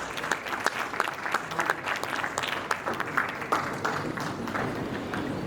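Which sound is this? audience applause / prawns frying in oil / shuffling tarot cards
audience applause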